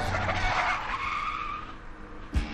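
A car skids with a drawn-out tire squeal over engine noise, sweeping loudly across the stretch and ending in a short thump.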